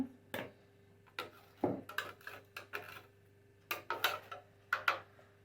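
Fish cutlet ingredients rubbed on a fine kitchen grater, giving a string of short scraping and clinking strokes in irregular bursts, close and moderately quiet, with no talk.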